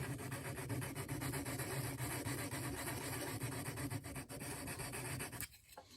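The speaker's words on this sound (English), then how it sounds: "Just breaking up those big pieces by kind of crushing them." Big pieces of abrasive being crushed into grit for lapping engine valve seats, a steady, loud, close grinding and rubbing that runs continuously and stops abruptly near the end.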